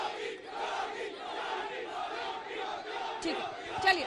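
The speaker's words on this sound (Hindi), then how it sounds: "अरे अंजना जी, किराए की भीड़ आई है।" Crowd shouting and clamouring at an election debate in Jewar, Uttar Pradesh, a dense mass of overlapping raised voices at moderate level, continuous with brief sharper shouts near the end.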